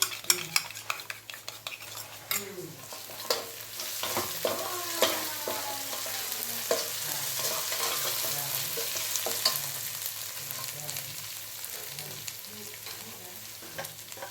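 Okra gravy is stirred in a hot pan with a spoon scraping and clacking in irregular strokes over a steady frying sizzle, close and moderately loud, with no talking.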